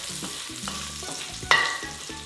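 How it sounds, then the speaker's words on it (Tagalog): Garlic sautés in a pan with a soft, steady sizzle while a utensil stirs and scrapes through it in short strokes, close and fairly quiet, with one brighter clink near the end. "Basta habang ginigisa, importante dito na hinahalo ninyo para mas maging pantay yung pagkakaluto."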